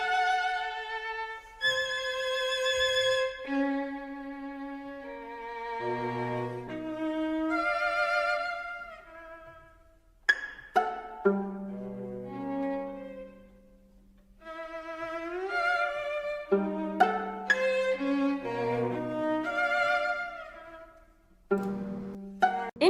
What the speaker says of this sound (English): the researchers played part of Webern's string quartet Opus 28